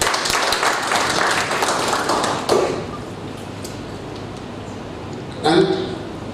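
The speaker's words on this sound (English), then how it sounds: "Let us give him a very big claps also." A conference audience applauds in a hall, a dense patter of clapping that fades out after a few seconds, followed by a brief thump.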